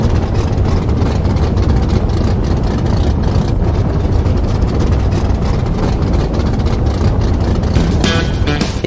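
Racing car engines roar loudly and continuously at close range, a dense, rough, unbroken rumble with no pauses and no voices.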